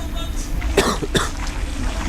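Two sharp coughs from a commentator during a live StarCraft 2 broadcast, close to the microphone, spaced about a third of a second apart over steady background hum.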